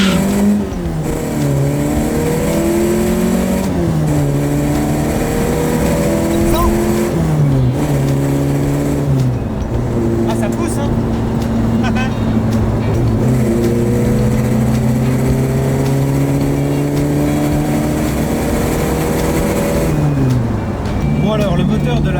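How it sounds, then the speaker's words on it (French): A Peugeot 205 fitted with a warmed-up 405 1.9-litre SRI engine runs a 0 to 100 sprint, the engine note rising sharply and dropping back through several gear shifts, loud and close from inside the car. "Bon, on va faire un 0 à 100, le moteur est chaud."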